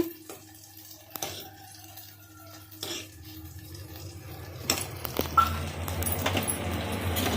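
Tap water runs steadily while tomatoes are rinsed, with light clinks and splashes growing louder toward the end.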